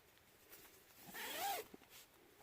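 The door zipper on a Marmot Tungsten UL 2 tent slides in one smooth, rasping pull lasting about a second, close and fairly quiet, with no talking.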